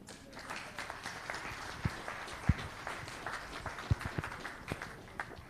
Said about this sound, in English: Another round of applause for Yolanda Cuba.